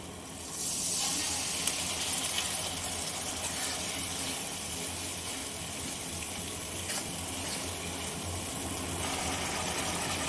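Water is poured into fried masala in a hot pan, bursting into a loud sizzle and hiss that settles into a steady, bubbling hiss, heard up close with no talking.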